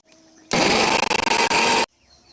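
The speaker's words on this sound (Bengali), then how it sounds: "ডাল ভিজিয়ে রেখেছিলাম, মিক্সচার মেশিনে তা পেস্ট করে নেব।" Kitchen mixer grinder pasting soaked lentils with four or five green chillies, a loud steady broadband whir starting abruptly, briefly stuttering midway as if pulsed, then cutting off after about a second and a half.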